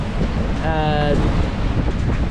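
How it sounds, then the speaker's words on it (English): Strong wind of 25 to 27 knots roars steadily over a sailboat at sea, a constant broadband rush with a brief tonal whine partway through. "25, 27 knots of wind. It's a lot of wind."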